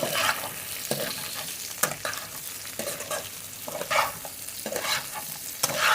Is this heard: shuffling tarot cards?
no